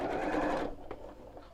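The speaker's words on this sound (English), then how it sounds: "as long as I'm only sewing through that one layer of fabric" A sewing machine stitching through a single layer of fabric hums in a quick, even whir for just over half a second, then stops, leaving faint handling clicks.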